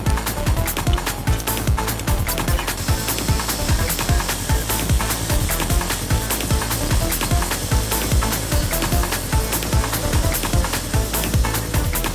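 Hand filing of the integral bolster shoulders on a steel kukri blade produces quick, regular rasping strokes, loud and close, repeating steadily for about twelve seconds with no talking.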